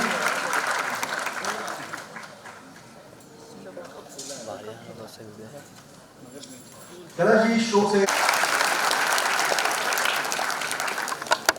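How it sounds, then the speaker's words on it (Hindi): An audience at a Nayii Udaan event applauds for Padma Shri Kailash Kher; broad clapping runs under an amplified announcer's voice, fades in the middle, then swells loudly and steadily again near the end. "पद्मश्री कैलाश खेर जी के लिए एक बार और मेरी तरफ से जोरदार ताली होना है।"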